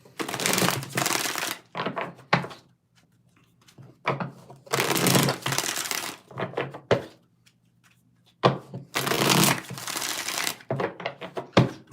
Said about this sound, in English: Let's get 6 shuffles here.